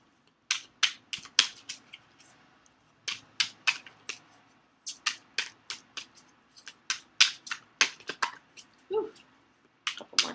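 Crisp tarot card riffles and snaps come in quick bursts with short pauses between, close and fairly quiet.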